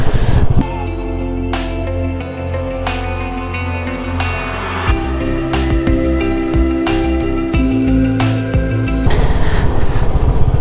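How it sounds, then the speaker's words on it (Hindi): A motorcycle engine droning steadily while riding from Lansdowne to Rishikesh in Garhwal, Uttarakhand, with its pitch shifting as the throttle changes, loud and close throughout. "एकदम धीरे धीरे बाइक चलानी है।"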